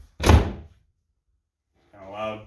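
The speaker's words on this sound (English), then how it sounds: "so when you close the door" A heavy thunk as a door swings shut over a towel wedged in it for a strength-training anchor, followed after a pause by a person talking.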